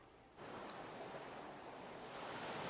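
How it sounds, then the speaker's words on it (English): Steady roar of wind and choppy water on Lake Pontchartrain, a dense broadband wash that starts abruptly and continues loud and unbroken. "very windy, very choppy waters at this time."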